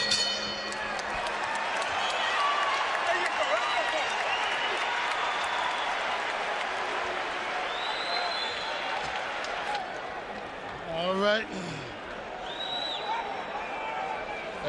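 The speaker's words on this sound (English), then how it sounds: "Crowd is into it now." Boxing crowd at a professional fight in Atlantic City roaring in a dense, continuous wash of cheering, with a commentator talking over it and a brief whistle-like rise near the end.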